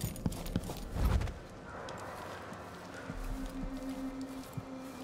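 Hollow, rhythmic horse hoofbeats in the video game Dishonored 2, clip-clopping at a moderate pace, with a soft thud and a steady background hum of ambient noise.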